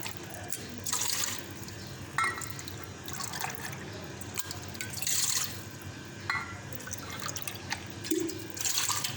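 Tap water runs into a cup in a home kitchen while preparing jelly, flowing in several separate bursts of splashing, close by and moderately loud, with no one talking.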